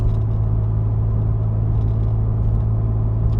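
Steady low rumble inside the cab of a Ford Raptor with an aftermarket exhaust, cruising at 50 mph in 7th gear around 2,000 RPM, a constant drone with faint road noise and no talking.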